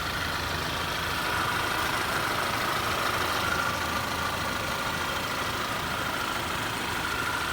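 A 2012 Audi A4 Quattro with a six-speed manual idles smoothly, a steady, even engine hum with a constant low rumble and no variation across the whole stretch, heard up close.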